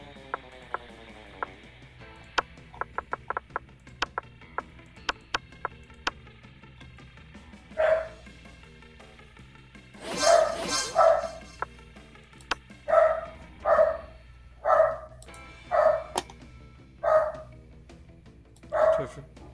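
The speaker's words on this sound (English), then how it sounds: "The bark sounded like a smaller dog." A small dog barks in a string of sharp, evenly spaced yaps, about eight to ten barks, clear and fairly close, after a stretch of faint clicking.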